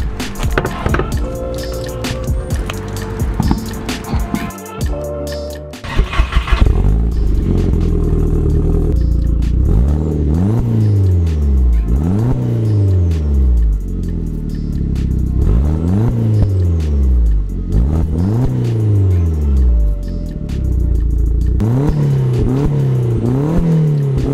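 A VW MK4 GTI fitted with a new turboback exhaust starts up and revs repeatedly, its engine note climbing and falling in loud, close sweeps with clattering mechanical noise underneath.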